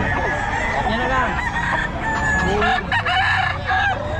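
A rooster crows loudly at a busy pet market in Bocaue, its long cock-a-doodle-doo calls repeating over clucking fowl and a noisy crowd murmur.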